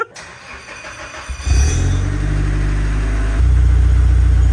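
A Nissan S14 engine idles, then loudly revs and pulls away close by, the engine note climbing in two steps as it drives off.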